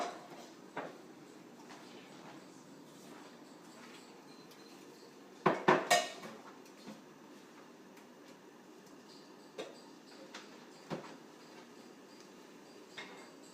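A metal ladle scoops Chinese vegetables out of a pot of boiling water, with a quick cluster of clanks against the pot near the middle and scattered lighter taps among low background noise.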